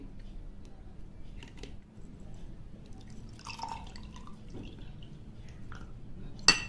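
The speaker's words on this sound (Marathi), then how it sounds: "हे जे बनवून ठेवलेलं आहे मिश्रण ते मी याच्यामध्ये गाळून घेते" A warm lemon and ginger mixture is strained through a sieve, giving faint, scattered drips and small trickles with a few light clinks over several seconds.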